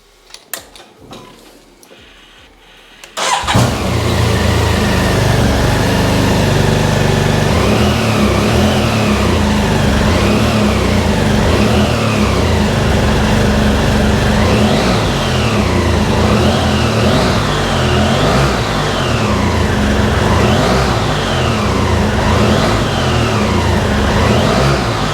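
A BMW F800GT motorcycle with 10,116 miles fires up after a few seconds of quiet, then settles into a steady, loud, close idle with brief blips of the throttle, and no talking.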